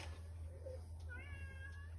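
A house cat meows a few times indoors, with soft, rising and falling calls that are moderately faint against a steady low hum of background noise.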